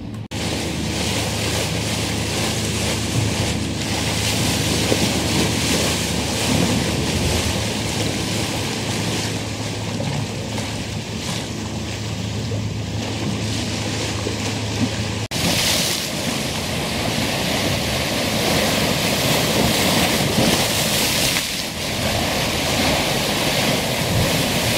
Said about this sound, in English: listen to the relaxing sound of water washing against the bottom of the cliffs